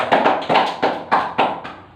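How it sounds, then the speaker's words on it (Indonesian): A classroom of students claps in a steady rhythm for a student during an Islamic hadith lesson on loving orphans, with about six evenly spaced bursts of hand claps, close and moderately loud, and no talking. "Tepuk tangan dulu untuk Nabila."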